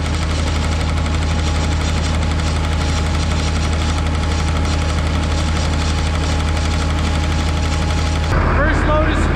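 Farm tractor held at about 1800 RPM to drive a hydraulic pump while hauling liquid manure, a loud, constant engine drone with rapid knocking pulses throughout, shifting abruptly near the end as a voice briefly cuts in.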